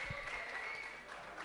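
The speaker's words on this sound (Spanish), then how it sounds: "¡Fuerte aplauso, por favor! ¡Un aplauso fuerte!" Applause from a crowd at a beatbox battle, steady and continuous clapping at moderate distance, fairly quiet overall with a faint tone lingering underneath.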